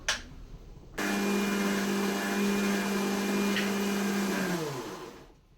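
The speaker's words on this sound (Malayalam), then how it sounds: "ഇതാ മിക്സിയിൽ അതൊന്നിട്ട് അരിക്കുകയാണ്" A mixer grinder starts abruptly after a short pause and whirs loudly and steadily while grinding tomato chutney, then its motor winds down toward the end.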